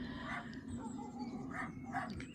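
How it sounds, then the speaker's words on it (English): A small fox terrier inside a cottage window growls and whimpers, with short yips breaking through a steady low hum. The sound is faint and muffled, as if heard from outside the glass. "Little fox terrier growling in the window"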